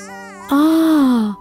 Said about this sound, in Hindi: बच्चे की रोने की आवाज नहीं आ रही?